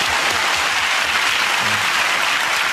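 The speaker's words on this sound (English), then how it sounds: "if you have a round of applause" A studio audience at a comedy panel show bursts into loud, dense applause that holds at full strength throughout, with faint low murmurs beneath the clapping.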